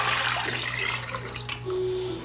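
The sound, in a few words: pouring homemade vegetable broth into soup pot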